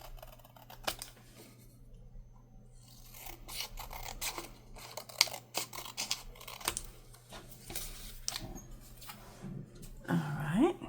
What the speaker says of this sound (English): So we can cut a little bit off each side.